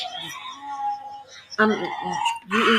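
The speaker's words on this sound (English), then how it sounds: "That sounds like a Fisher cat attacking something else" A fisher cat attacking another animal gives out loud, strained cat-like screams and caterwauling wails in several drawn-out bursts, the later cries harsher and more intense.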